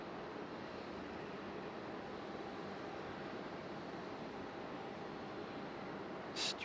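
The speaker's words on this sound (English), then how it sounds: "Beautiful 767 there for FedEx. Gonna go all the way down to the end of the runway so they can make their turn." A FedEx Boeing 767 taxis along the runway at an airport, its jet engines a steady, even, broadband roar with a constant whine, heard from some distance without variation, and no voices.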